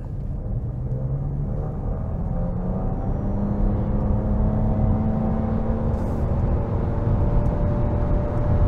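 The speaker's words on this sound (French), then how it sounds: "Je me mets à l'arrêt complet et j'accélère à fond." A Nissan Qashqai e-Power accelerates hard from a standstill, a smooth electric whir climbing steadily in pitch over a constant road rumble, with no gear changes and no voices.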